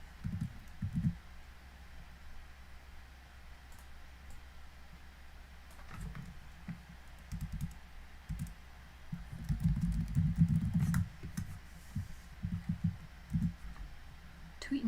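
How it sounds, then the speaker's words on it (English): Sparse clicks and taps from typing on a computer keyboard in a quiet room, coming in short scattered bursts with a busier stretch near the middle, faint and close. "you just hear my click-clacks on the keyboard"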